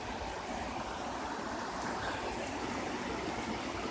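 A creek running high after rain, a steady broadband rush of flowing water, close and continuous with no break and no voices.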